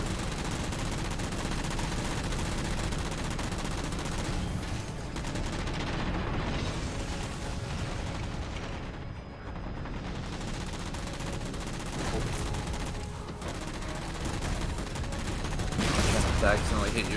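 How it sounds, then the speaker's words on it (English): Continuous rocket and gunfire barrage while shooting enemy ships in Halo 4, dense booming blasts layered with a voice talking throughout, a brighter burst near the end. "these ships, I'm shooting them with rockets, we can destroy them and it'll make our lives a lot easier"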